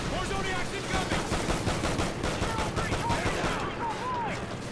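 Gunfire in the video game Call of Duty: Ghosts: steady rapid automatic fire, loud and nearly continuous with a busy battle din behind it, and no talk.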